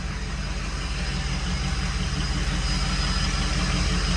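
A Ford F250 pickup with a 6.0 Powerstroke diesel, recently revived after sitting two years, runs with a steady low diesel drone and vibration heard from nearby, continuous and loud, with no talking.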